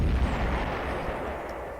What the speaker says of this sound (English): And now we're going to use our dynamite.